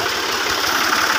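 A tractor engine runs steadily at close range, a loud rough rumble with a rapid knocking pulse and no voices over it.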